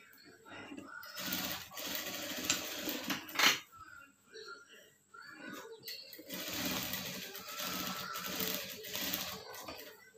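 Sewing machine stitching a 36-size princess cut blouse, running in steady bursts with a brief pause near the middle, close and moderately loud.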